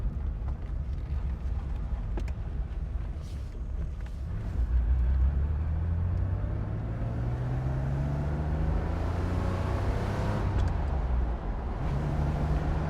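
A 1980 Porsche 911 SC driven hard, its engine climbing through gears in rising sweeps with a loud, close, rumbling drone and road noise, no talk.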